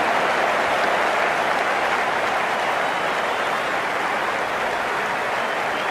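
Stadium crowd in Cricket 19 cheering and applauding, a steady dense roar that holds evenly for the whole stretch with no speech.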